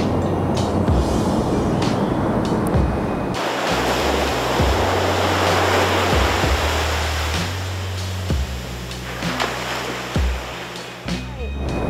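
Ocean surf rolls and crashes onto the beach at Tsujido, Japan, a loud steady wash with low rumbling swells and occasional louder breaks, no voices.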